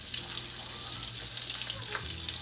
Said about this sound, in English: we're going to go ahead and add a tablespoon of butter. We're going to melt this in our pan.